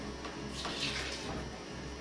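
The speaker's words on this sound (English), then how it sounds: "You can add some water to that as well." Water poured from a container of filtered water into a pan while making Italian sauce, a steady, soft splashing stream that runs continuously without talk.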